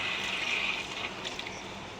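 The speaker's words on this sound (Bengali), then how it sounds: "এইবারে এর মধ্যে অ্যাড করব অল্প পরিমাণে সেই মশলা ধোয়া জলটা" Water left from washing spices pours into a cooking pan of curry, a steady close splashing gush lasting about two seconds.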